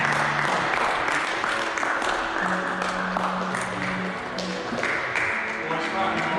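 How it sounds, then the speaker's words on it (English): Applause from a cricket crowd at Eversley greets a batsman reaching 200 not out as the innings is declared. Broad, sustained clapping fills the scene with steady ground noise, while speech-like tones sit underneath. "Soak in this applause"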